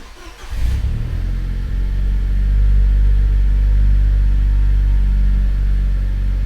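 A Nissan Pulsar Turbo engine catches after a brief crank and settles into a steady, loud, low idle rumble that rises slightly and holds, close by.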